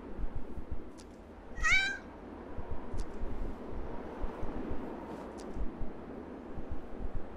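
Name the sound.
pet cat meowing in the video game Yomawari 3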